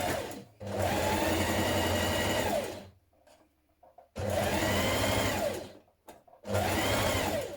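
A sewing machine running a stretch stitch to join knit sleeve pieces for a top, in three loud, steady runs separated by short quiet pauses, with no talking.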